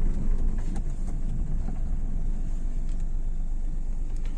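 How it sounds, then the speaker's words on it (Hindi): A car interior with a steady low engine rumble and road noise as the vehicle rolls slowly backward after the clutch is eased out, constant and close with faint occasional clicks, no voices. "कार पीछे जाती जा रही है"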